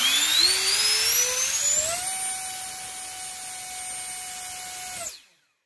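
A Freewing 1857kv electric motor runs on an 8s battery during a static thrust test. Its loud whine rises steeply for two seconds, holds a steady high pitch, then cuts off sharply and goes silent.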